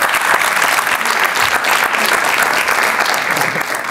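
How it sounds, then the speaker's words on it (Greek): A studio audience claps for a 20-year-old cooking-school graduate called up during a comedy show, a loud, dense and steady round of applause that holds evenly throughout without any speech. "Δώστε λίγο χειροκρότημα στον Κυριάκο"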